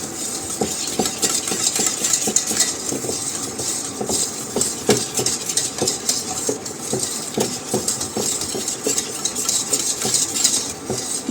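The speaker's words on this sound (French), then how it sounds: "on rajoute 30 g de beurre demi-sel. Et on remue jusqu'à ce qu'il soit tout fondu" Salted butter melting into a cream while it is stirred with a utensil, giving steady scraping and clinking against the pot over a soft sizzle, close and continuous throughout.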